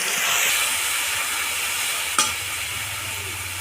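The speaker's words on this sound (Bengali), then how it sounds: "আদা রসুন বাটাটাকে হালকা করে ভেজে নেবো" Ginger garlic paste fries in a pan, giving a steady, close sizzle and hiss with a brief stirring scrape partway through and no voices.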